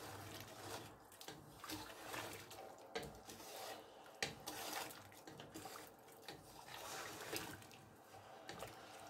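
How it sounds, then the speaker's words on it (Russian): Watermelon rinds are stirred with sugar for jam, making a faint, continuous wet rubbing and scraping that rises and falls with the stirring. "Теперь все хорошенько перемешиваем."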